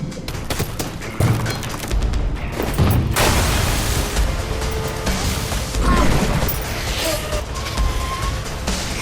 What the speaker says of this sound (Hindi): जबरदस्त धमाके के नतीजे में पूल तबाह हो जाता है